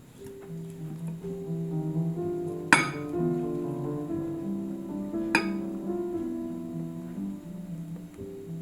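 Batter being mixed in a bowl as dry ingredients go into egg yolk mixture for a tres leches cake: two sharp utensil clinks against the bowl over a steady low hum, close, with no talking.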